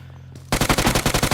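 Rapid bursts of automatic gunfire in a video game erupt suddenly and loudly, a fast repeating volley of shots after a brief quiet moment.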